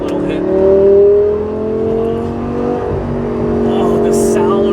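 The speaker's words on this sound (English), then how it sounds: "This has got to be one of the best sounding cars I've ever driven" A salvaged Lamborghini engine in sport mode revs hard with a loud, close, sustained growl that swells and eases over a few seconds; the engine noise fills the clip throughout.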